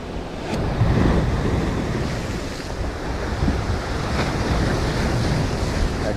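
Waves rush and break continuously on a shore, with a loud, steady roar and wind buffeting the microphone.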